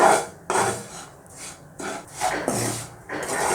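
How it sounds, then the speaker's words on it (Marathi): Moong dal flour being stirred and roasted in ghee in a pan, heard as repeated rough scraping strokes of a utensil against the pan in an uneven rhythm, fairly close and moderately loud. "याला चांगला गोल्डन ब्राउन कलर येईपर्यंत असं परतत राहायचं"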